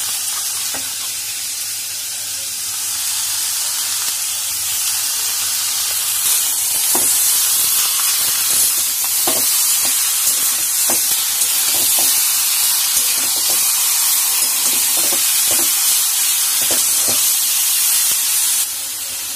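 Red meat fries in a pan with freshly ground spice paste, giving a loud, steady sizzle and hiss, broken by sharp clicks and scrapes as it is stirred.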